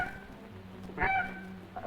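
A single sharp, high honking snow goose gander call imitated by a person, rising briefly out of a quiet outdoor background on the Fraser River delta.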